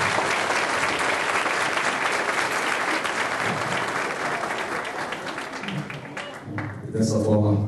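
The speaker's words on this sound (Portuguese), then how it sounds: "queria uma salva de palmas para vocês, porque vocês são o centro da festa" Loud, sustained applause from a graduation ceremony audience, dense clapping filling the room with crowd voices mixed in, easing slightly before a burst of louder noise at the end.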